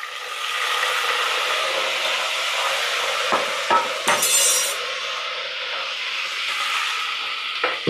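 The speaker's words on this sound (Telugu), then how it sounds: "పుదీనా ఆయిల్లో కాస్త వేగనిచ్చిన తర్వాత జింజర్ గార్లిక్ పేస్ట్" Mint frying in hot oil for a Telangana Bonalu mutton and chicken curry, a loud continuous sizzle with a few stirring clatters.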